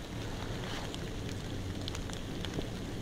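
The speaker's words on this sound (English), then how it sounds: "Rain, rain, rain. Wet year." Steady rain falls during a wet spell at an outdoor fox and bobcat trapping spot, a soft, even wash of noise with scattered faint drop taps, ending in a brief louder bump.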